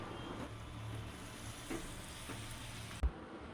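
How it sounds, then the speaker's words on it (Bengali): Spice paste and onions sizzle and are stirred in a pan for a coconut pomfret curry. A soft, steady frying hiss runs throughout, with faint scraping strokes and one brief knock near the end. "দিয়ে তারপরে বাটা মশলাটা দিয়ে একটু কষিয়ে নিলাম।"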